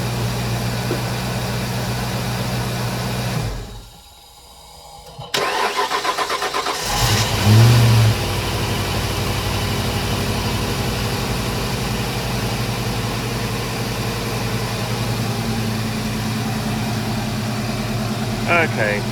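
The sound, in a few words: car engine being restarted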